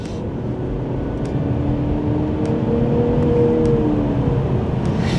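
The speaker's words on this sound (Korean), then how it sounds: "엔진 자체의 소리인지 전자음인지 모르겠어요" A new BMW 6 Series Gran Turismo engine drones steadily from inside the cabin, with a thin electronic-sounding whine rising and falling through the hum.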